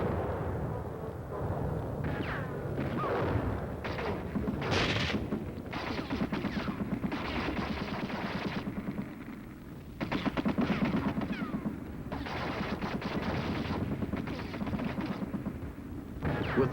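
Battlefield artillery and gunfire during a sustained troop advance, heavy booms and rolling bursts of shots rumbling almost continuously, dense and loud with only brief lulls between volleys.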